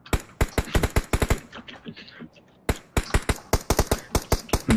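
Video game AK rifle fire in sharp automatic bursts, loud and close, with a short lull mid-clip before rapid shots resume.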